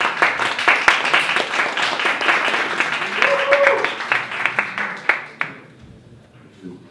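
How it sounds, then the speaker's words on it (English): Audience clapping at a Startup Grind tech talk in Bratislava welcomes a guest speaker, a lively close crowd of hands that rises, then thins into a few scattered claps before fading to quiet. "Please give a round of applause for Michal."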